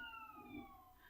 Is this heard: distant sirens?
yes